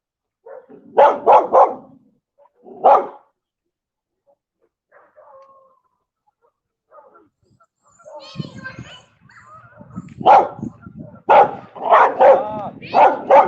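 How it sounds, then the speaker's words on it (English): A dog barks near an outdoor fishing spot before a storm: a few loud barks, then a quiet stretch, then a rapid string of barks and yips toward the end. "This dog is so freaking annoying."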